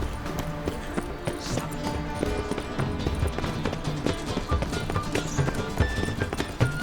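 Roach the horse running in The Witcher 3, with dense hoof clatter blending into busy background game music and ambience, the beats less distinct and slightly uneven.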